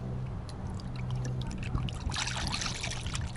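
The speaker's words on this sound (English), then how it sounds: "Let's go ahead and top it off with some antifreeze" Antifreeze in a 50/50 mix poured into the radiator of a Toyota Century, a steady close liquid trickle and gurgle that grows brighter and splashier toward the end, with no talking.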